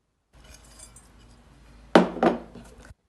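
A spoon stirs milk in a bowl: metal clinks against the bowl twice in quick succession after a soft scraping, close and alone.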